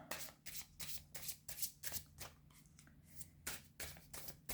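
Tarot cards are shuffled by hand in a quick series of crisp riffling bursts, close and fairly quiet, repeating in an uneven rhythm with no talking.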